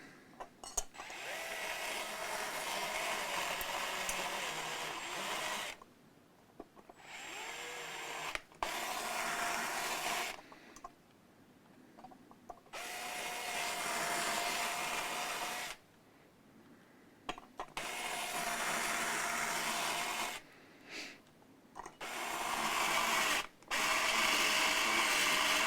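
Cordless power drill driving screws on a Fender MIM Precision Bass during a setup, clutch torque set very low; several sustained whirring bursts, each lasting a few seconds and separated by short pauses, close and loud with no talking.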